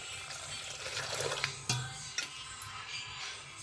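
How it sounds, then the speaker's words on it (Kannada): Water pours steadily into a cooking pot in a home kitchen, a continuous splashing rush with a few small knocks partway through, and no speech. "ಈಗ ಇದಕ್ಕೆ ನೀರು ಹಾಕೋಣ"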